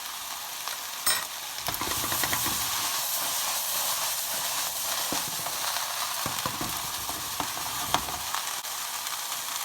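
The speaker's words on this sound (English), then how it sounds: "I'm going to let this cook down for a good 10 minutes" Vegan ratatouille vegetables with capers cook down in a pan, giving a continuous loud sizzle and hiss with occasional stirring clicks and scrapes throughout, and no talking.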